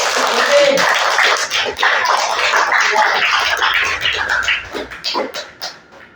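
Classroom applause for a presenting student group, a dense round of clapping from many hands lasting several seconds before thinning out into scattered claps.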